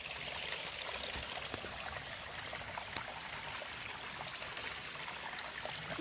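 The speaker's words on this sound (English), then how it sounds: "beautiful creek." A creek flows in a continuous, broadband rush and trickle, steady and close, with no talk over it.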